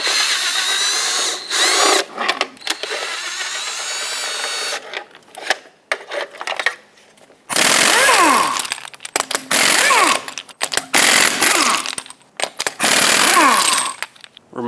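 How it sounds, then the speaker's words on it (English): A power tool spins lug nuts off the wheel of a 2011-2018 RAM 2500 truck, giving loud, close bursts of whirring and rattling impact separated by short pauses and clinks of metal. "whatever you have for lug nuts holding the wheel on,"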